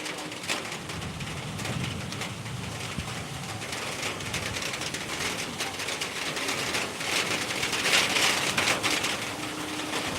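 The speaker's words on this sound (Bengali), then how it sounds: "বৃষ্টি পড়ছে না অল্প অল্প পড়ছে" Light rain falls outdoors as a steady, soft hiss of patter across the whole stretch, with faint scattered drips and a low background hum.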